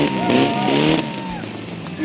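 VW car engine revving at a car show, a loud rising and falling rev under a crowd and announcer talking.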